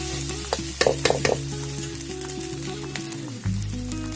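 Dried fish paste sautéing in a hot pan, a constant close crackling sizzle with a few sharp utensil scrapes and clicks early on and a low steady hum underneath.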